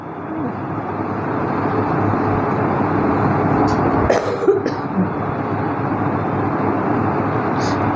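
A stroke patient gives a short, harsh cough midway through, heard against a constant loud background hiss and rumble.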